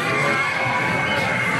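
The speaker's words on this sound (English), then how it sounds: "You can hear the people cheering." Crowd at Splash Mountain in Disney World cheers and shouts in a dense, steady wash, moderately near, with no clear individual voices standing out over the brief span.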